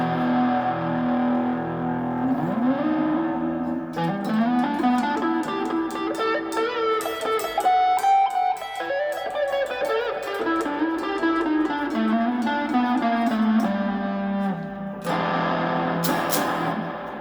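Budget Indio electric guitar played through Guitar Rig Pro with cathedral reverb, slow sustained notes and chords swelling and washing into long echoing tails, with no voices.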